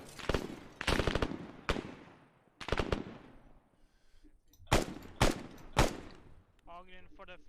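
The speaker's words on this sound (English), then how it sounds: "I think we're taking fire from the east-northeast in the buildings." Incoming gunfire from buildings in ArmA, sharp bursts of automatic shots arriving in separate volleys with quiet gaps between, moderately near, followed by a short warbling tone at the end.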